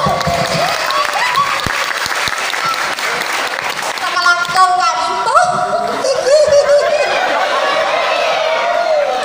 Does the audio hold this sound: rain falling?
no